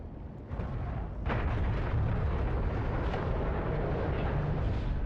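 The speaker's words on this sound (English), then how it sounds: "Those explosions are messing with me." Explosions from the space game EVE Online rumble as a continuous, dense roar, with a sharp blast standing out early on, fairly loud and without any talk over them.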